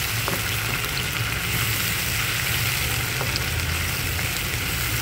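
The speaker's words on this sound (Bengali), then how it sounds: "পেঁয়াজগুলো একটু ভেজে নেব।" Onions sizzle in hot mustard oil in a wok after dry red chillies were tempered, a steady close frying crackle with no talking.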